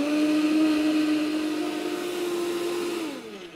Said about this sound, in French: Et on mixe.